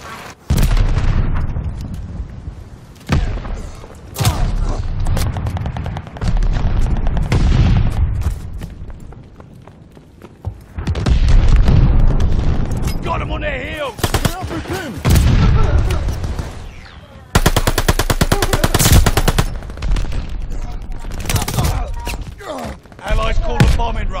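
Heavy booms of grenade explosions and rapid bursts of gunfire in the video game Call of Duty Vanguard, loud and continuous for the whole stretch, with in-game voices calling out over the action.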